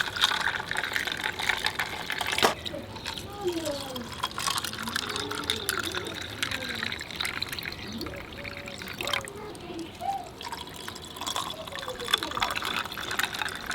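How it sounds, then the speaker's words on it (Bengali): Water poured into a mango and lemon sherbet with mint leaves, a steady liquid filling and trickling sound running continuously at moderate level, with some faint background voices. "এবার দেবো জল।"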